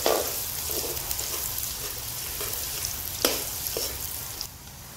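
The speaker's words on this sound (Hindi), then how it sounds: "अदरक और लहसुन डालेंगे। इसको गोल्डन ब्राउन होने देंगे।" Ginger and garlic frying until golden brown for a potato and aubergine curry, giving a steady, close crackling sizzle with a few sharper stirring clicks. No voices are heard.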